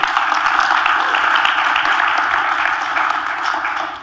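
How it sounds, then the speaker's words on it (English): Applause from a live audience for a panel at a podcast event, a steady dense wash of clapping that holds at an even level for about four seconds and then starts to fade, with no talk over it. "Can I have a round of applause for our amazing panel, please?"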